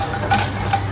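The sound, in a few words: fox nuts (makhana) frying in oil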